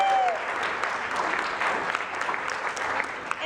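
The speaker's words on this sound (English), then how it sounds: "So let's give Betty a round of applause." An audience at a Sunday church celebration service claps in a steady round of applause, moderately loud and continuous throughout, with no talk over it.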